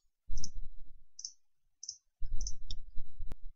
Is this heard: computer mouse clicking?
yes